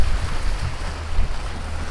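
Waves and gusting wind on a beach in Cozumel, Mexico make a continuous low rumble of surf with buffeting wind noise on the microphone, steady and fairly loud, no talking.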